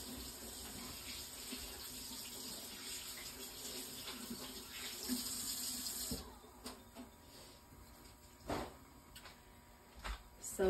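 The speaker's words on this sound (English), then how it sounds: "So I'm gonna wash my hands." Hands washed under a running tap, a steady quiet stream of water for about six seconds, then the flow stops and scattered drips, splashes and rubbing sounds follow.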